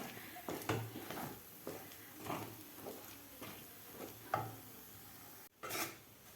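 Mung dal sheera mixture stirred in a pan over low heat, a series of soft scraping and tapping strokes at an irregular rhythm, fairly faint and close.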